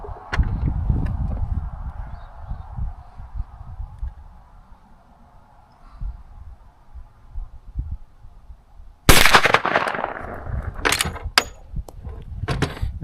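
A single sharp, loud rifle report from a Marlin 1894 Trapper chambered in 10mm, firing a 200-grain woods load outdoors, cracking out suddenly after a stretch of quiet ambient noise and followed by a few fainter clicks and knocks.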